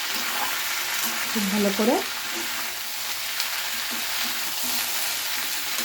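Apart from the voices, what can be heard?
stirring frying cauliflower in a pan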